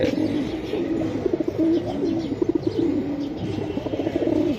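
Pigeons coo steadily and close by, a rolling, throaty murmur from several birds of the fancy gangabaz breed, with faint chirps and occasional rustling over a soft background.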